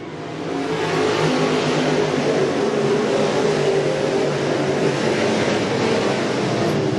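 Pro Crate race cars roar around a banked oval track in a sustained, loud engine drone. Several motors blend into one continuous rumble that swells in the first second and then holds steady.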